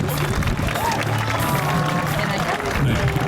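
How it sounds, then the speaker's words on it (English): A crowd applauds steadily at the Saluting Battery in Malta after a ceremonial gun-firing display by uniformed troops. The clapping is dense and continuous at an even loudness throughout, with a faint murmur of voices underneath. "May I kindly suggest that you give a good round of applause to our boys in uniform for their splendid display"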